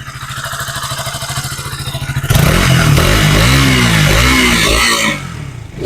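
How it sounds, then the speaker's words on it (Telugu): A KTM Duke 200 single-cylinder motorcycle idles with a steady low thumping, then the engine revs up sharply into a loud, sustained roar with rising and falling pitch for several seconds before easing back. "సో ఇప్పుడు ఎక్సెలరేటర్ ఇస్తా."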